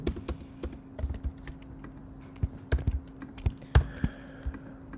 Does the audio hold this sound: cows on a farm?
no